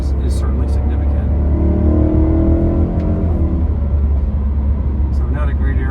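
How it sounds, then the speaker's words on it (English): BMW E90 M3 ZCP with BPM ECU and DCT tune and a dyno intake, its engine and induction noise a loud steady drone with a brief rise in pitch mid-clip, a voice speaking over it. "you probably pick up on the induction noise is really happy with it at this point, with the dyno intake and with the BPM"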